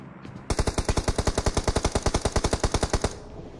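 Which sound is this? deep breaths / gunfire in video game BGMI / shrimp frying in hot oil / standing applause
gunfire in video game BGMI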